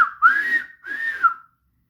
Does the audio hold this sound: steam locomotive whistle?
yes